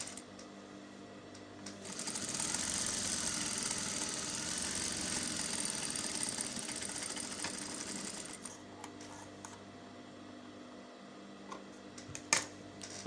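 A sewing machine stitches a seam in fabric for a wrap blouse, running in a continuous close whirring burst for several seconds before stopping, followed by faint handling clicks.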